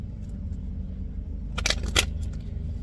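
Tarot cards being shuffled by hand, a brief burst of crisp riffling rustles in the middle of the clip over a low steady background hum, close and moderately loud.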